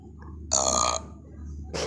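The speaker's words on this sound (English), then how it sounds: "I am burping again!" A cartoon character burps in a burping contest from The Simpsons Tracey Ullman shorts, with a loud half-second belch and then a second one starting at the end over a low hum.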